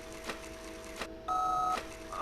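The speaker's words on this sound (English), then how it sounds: "If you wish to leave a message, press the star button or wait for the beep." Answering machine beep in the Evil Twin video game, a single sustained electronic tone lasting about half a second after faint game sounds, fairly quiet.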